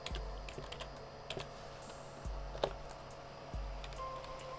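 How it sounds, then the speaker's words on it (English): Keys clatter on a computer keyboard as a command is typed, with quiet irregular clicks and a few firmer keystrokes in an otherwise hushed room. "Type nano etc"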